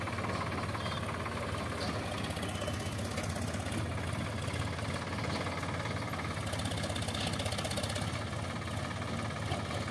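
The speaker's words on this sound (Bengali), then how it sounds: "দেখতে পাচ্ছেন একে একে ট্রাক্টর আসছে" Tractors hauling and dumping earth at a rail project construction site produce a steady, low, mid-pitched engine rumble that runs unbroken throughout, with no talking.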